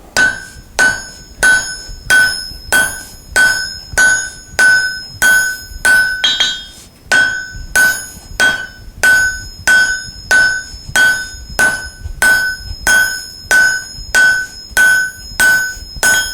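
Steady, evenly spaced hammer blows ring out on bright orange hot steel as a drift for axe and hammer heads is forged, each strike close and loud with a sharp metallic ring, about twenty in a row.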